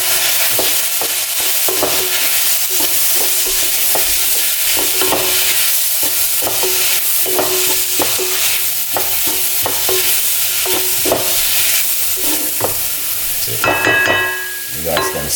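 Cumin seeds sizzle steadily in hot oil in a pan, with repeated scraping stirs cutting through the continuous frying hiss, close and loud throughout.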